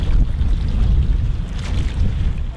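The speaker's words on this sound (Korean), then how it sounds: "최대한 멀리 RC 피싱 보트를 보내는 중년 남자" A remote-controlled fishing boat runs out across open water at a sea wall, its motor a steady low drone blended with wind and water noise, continuous and fairly loud with no one speaking.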